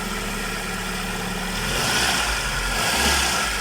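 A Mitsubishi Lancer engine with a newly changed timing belt runs steadily at idle, a low continuous rumble that swells slightly louder partway through, with no voices.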